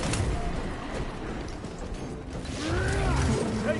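A weapon reloads in the game Space Marine 2, giving mechanical ratcheting clicks and metallic gear-like clatter over a busy background of game noise, with a louder, grinding burst near the end.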